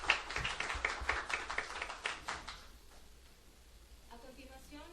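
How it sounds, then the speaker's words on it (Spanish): Audience applause at an academic conference closing session rings out as a dense, brisk burst of clapping for a couple of seconds, then thins out and fades into quiet room noise. "Pido un aplauso para ella."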